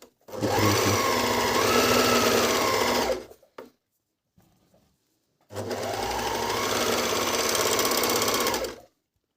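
A Brother-Medion MD10685 overlock sewing machine stitches fabric in two loud, steady, fast-whirring runs of about three seconds each, separated by a quiet pause with faint handling noise.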